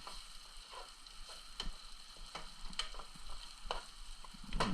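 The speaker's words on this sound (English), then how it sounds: "We need to stir that up" Keto spaghetti gets stirred in a frying pan, a quiet steady sizzle with soft scraping strokes and occasional light ticks from the utensil against the pan, no voices.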